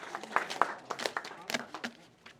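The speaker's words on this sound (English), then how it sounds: "round of applause" Classroom applause from a group of students, a short burst of scattered, uneven claps that thins out after about two seconds, fairly quiet and heard from within the room.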